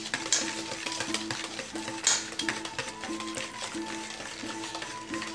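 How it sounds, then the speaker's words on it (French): Madeleine batter stirred by hand in a bowl after lemon juice is added, a close steady scraping and swishing with soft repeated taps of the utensil against the bowl, fairly quiet with no talking. "Et vous continuez à touiller."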